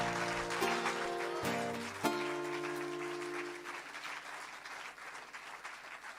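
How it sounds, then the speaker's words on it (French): A church congregation bursts into applause and cheering, a broad wash of clapping with sustained tones from musical instruments sounding underneath, gradually thinning out over several seconds. "Est-ce qu'on peut donner des acclamations au roi de rois,"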